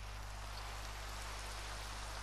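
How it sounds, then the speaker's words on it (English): Steady rain hisses over a video game world while walls are being built, a dense, even wash of droplets holding constant level throughout with no talking. "Please stop raining."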